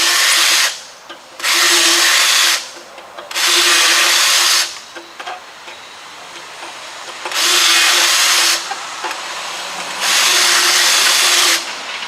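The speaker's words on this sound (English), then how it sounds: "we're going to have to wobble those out a little bit" A power drill repeatedly enlarges 1/8 inch holes in the rusty body of a junkyard car under restoration, four loud whining bursts of a couple of seconds each separated by pauses.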